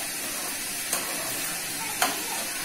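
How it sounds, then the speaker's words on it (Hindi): Vegetables for a veg biryani sauté in a pan, giving a steady soft sizzle with two sharp scrapes as they are stirred, close and continuous, with no one speaking. "5 मिनट तक सिमने में ऐसे भून रही हूँ।"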